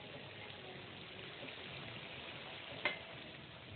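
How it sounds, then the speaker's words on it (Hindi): Water added to a hot pot of cooking achaar, producing a steady, moderately quiet sizzle throughout, with a brief sharper hiss near the end. "पानी डाल दिया।"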